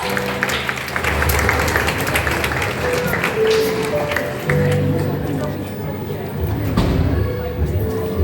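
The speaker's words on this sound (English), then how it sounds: "Give them a huge round of applause." Crowd applause at a school graduation day, a steady wash of clapping that runs the whole stretch with voices, thumps and music mixed in.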